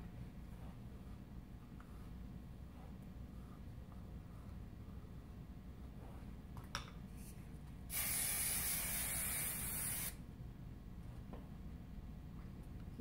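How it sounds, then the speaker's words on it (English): A can of hair finishing spray hisses in one steady burst of about two seconds, close by, amid quiet room background. "Now I use my finishing spray to really shape again those"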